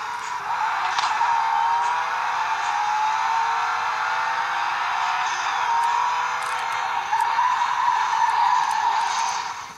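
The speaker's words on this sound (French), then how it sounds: "je vous montrer le bruit du moteur" A car engine from Need for Speed Most Wanted on PS Vita roars steadily with smooth pitch shifts and tire skidding, loud and continuous throughout, with an electronic, game-like quality and no talk.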